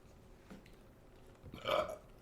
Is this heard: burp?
yes